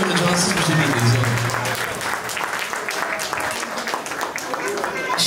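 Wedding guests applaud in a dense, continuous patter of clapping that thins slightly toward the end, with a voice speaking over it near the start.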